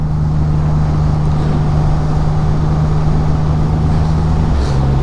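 Triumph Rocket 3R motorcycle engine while riding, a steady loud low drone mixed with heavy wind rush throughout, with no talk.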